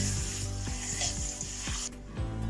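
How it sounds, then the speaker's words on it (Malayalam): Papadam frying in coconut oil gives a steady close sizzle, with repeated scraping and stirring strokes running throughout and no talking. "അപ്പുറത്ത് ഞാൻ കുറച്ച് പപ്പടം കാച്ചാണി വെച്ചിട്ടുണ്ട് വെളിച്ചെണ്ണ"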